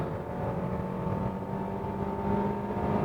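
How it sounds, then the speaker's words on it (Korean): A 2026 Hyundai Sonata with a naturally aspirated engine accelerates at full throttle from low speed, producing a steady, sustained engine drone heard from inside the cabin, moderately loud and without speech. "저속에서 고속으로 풀악셀!"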